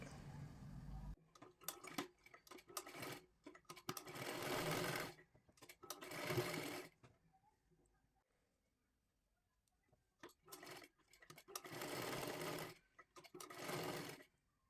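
Sewing machine stitches a boat neck blouse in several loud, close rapid-clicking bursts separated by short pauses and one longer quiet gap, with no talk.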